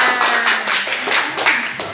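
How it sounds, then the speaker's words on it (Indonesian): Classroom clapping after a student role play, a short scattered round of a few hands tapping unevenly, moderately loud and brief with no talk over it. "Tepuk tangan"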